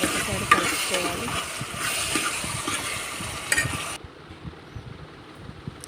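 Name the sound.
stirring bottle gourd curry in a pan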